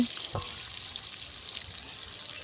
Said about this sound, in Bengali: মাছগুলো ভালো করে ভাজতে হবে